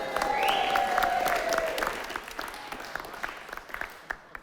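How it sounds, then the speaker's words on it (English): Audience applause in a church congregation, a dense wash of clapping that is loudest at first and then thins to scattered claps, with a sustained tone running beneath the opening seconds. "give them a round of applause"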